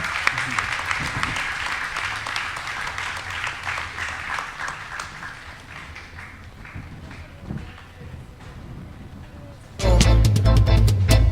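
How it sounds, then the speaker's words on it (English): Panel-session crowd at a reggae festival claps for the speakers, a broad patter of many hands that slowly thins, then a loud burst of music with heavy bass cuts in near the end. "please give one more warm round of applause for Ross Flako, Giulia Bonacci, Stephen Rudd"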